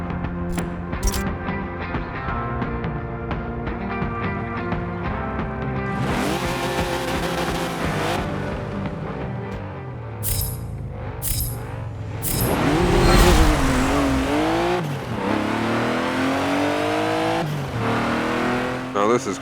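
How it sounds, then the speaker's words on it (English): A 1995 Porsche 911 GT2 in a Forza Motorsport 7 drag race, its engine revving through rising and falling pitch sweeps with tire squeal, loud and close, surging harder midway, with a voice talking over it. "Next we have the 1995 Porsche 911 GT2."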